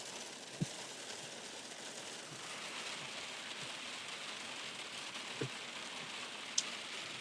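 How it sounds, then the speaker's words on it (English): Heavy rain pours down in a steady, dense hiss with no letup, with a few faint knocks and ticks over the wash and no voices. "it's like fucking Florida rain downpour"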